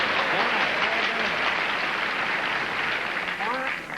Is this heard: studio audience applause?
yes